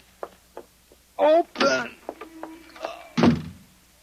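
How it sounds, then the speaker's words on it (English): A front door is opened in a radio science-fiction drama with a solid, close wooden thunk and latch noise, set among a few short knocks and hurried voices. "The front door. Open."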